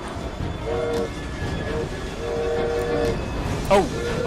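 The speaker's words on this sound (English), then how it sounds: "Oh shit, I'm on a moving train." A moving train in Assassin's Creed Syndicate rumbles steadily with a continuous low roar, while faint tonal whistle-like sounds and a brief clatter rise over it; a voice speaks at moments.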